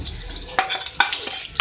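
A spoon stirs chicken white biryani mixture through a cup of crushed fried onions in a pot, giving several close, distinct scraping strokes over a soft background sizzle, with no talking.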